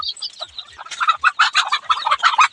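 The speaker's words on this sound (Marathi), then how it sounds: "हे छोटे छोटे पिल्ले बघा किती सुंदर छान पद्धतीने माझ्या पुढं पळायले." Chickens and small chicks cluck and peep close by in a busy, overlapping chatter, with rapid bursts of calls growing louder and more frequent throughout.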